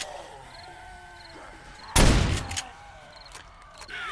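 A single sudden, loud gunshot blast against zombies in 7 Days to Die, cutting through quiet game ambience midway, followed by a brief echoing tail and faint trailing thumps.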